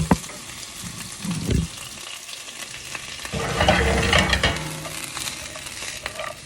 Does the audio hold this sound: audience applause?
no